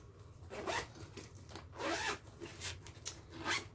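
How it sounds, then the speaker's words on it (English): The zipper on a fabric crossbody bag is pulled in several quick rasping strokes, close and fairly quiet, with short pauses between pulls and no voices. "And of course it zips."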